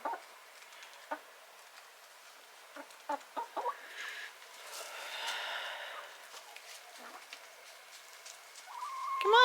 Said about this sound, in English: Come on, chicken, chicken.